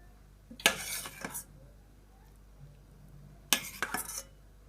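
Sauce spooned over keşkek, a Turkish wheat and meat dish, with butter and pepper sauce: two short bursts of spoon scraping and clinking against a dish, separated by a quiet pause, close and moderately loud.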